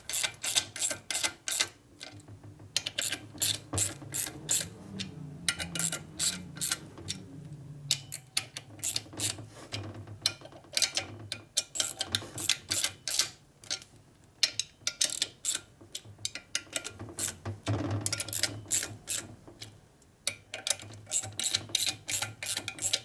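A hand ratchet clicks in quick rapid bursts while tightening bolts on a 1965 Harley-Davidson FLH 74ci panhead motor during a rebuild, with sharp metallic ticks in repeated runs separated by short pauses.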